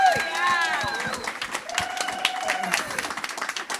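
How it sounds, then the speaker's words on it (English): An audience applauds after a musical performance at a labor-movement class event, with scattered claps and cheers under a voice speaking over the crowd. "one more round of applause"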